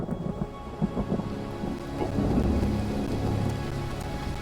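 Thunderstorm with rain in Ori and the Will of the Wisps, heavy rain pattering continuously while low thunder rumbles build and roll through, no voices present.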